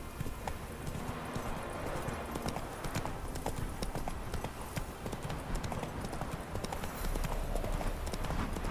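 Geralt's horse Roach clip-clops along in The Witcher 3, a steady, close rhythm of hoofbeats continuing throughout under game ambience.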